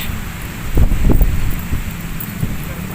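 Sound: wind by the bay

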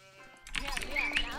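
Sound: sheep bleating in a strategy video game

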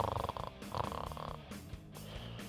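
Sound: pet snoring

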